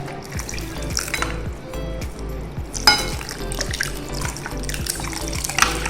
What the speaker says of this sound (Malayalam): ഇതിലേക്ക് നമുക്ക് നേരത്തെ എടുത്തു വെച്ച ഇളനീരിൻ്റെ വെള്ളം ഒഴിച്ചു കൊടുക്കാം